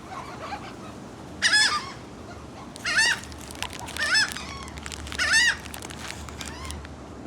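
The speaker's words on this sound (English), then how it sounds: "That's 12 seagulls on 2 roofs." Seagulls perched on motel roofs give four loud, sharp honking calls roughly a second apart over quiet outdoor background noise, sounding fairly close.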